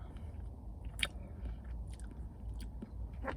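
A slice of Cheesecake Factory Celebration Cheesecake being chewed up close, soft wet mouth sounds with a few sharper bites and smacks spread through a quiet stretch, nobody speaking.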